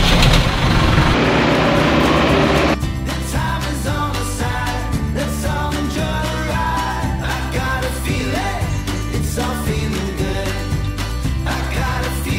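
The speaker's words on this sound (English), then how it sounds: "Let's see if the old load tractor can do the job." An old, very large loader tractor works at scraping cow beds, its engine a loud, steady, heavy drone with clattering and scraping layered on top throughout, with no voices.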